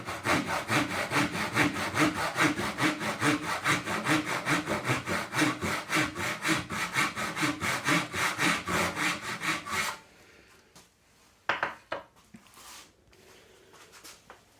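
A hand saw cuts dovetail shoulders in wood with rapid, even back-and-forth rasping strokes for about ten seconds, close and loud, then stops, followed by a few faint knocks and handling sounds.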